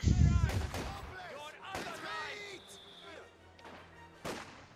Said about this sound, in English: the mortar bombs just continue to fly after them.